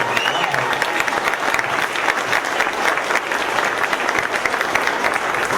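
An audience at a Utah rally supporting Bernie Sanders breaks into a sustained round of applause, dense clapping that stays loud and even from start to finish with faint crowd noise underneath.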